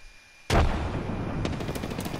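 Gunfire in the video game Apex Legends erupts abruptly after a brief quiet, with a sharp loud first shot followed by a rapid rattle of automatic fire that continues to the end.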